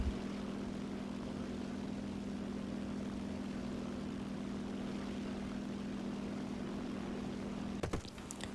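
A low-tier British propeller fighter armed with Browning machine guns flies past in a combat flight game, its engine a steady loud hum with a constant low tone, ending in a few brief crackling bursts.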